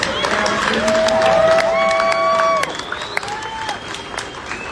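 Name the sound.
audience applause and cheering at a graduation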